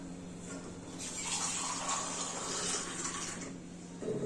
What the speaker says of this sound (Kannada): ಒಂದೆರಡು ಲೋಟದಷ್ಟು ನೀರು ಹಾಕೋಬೇಕು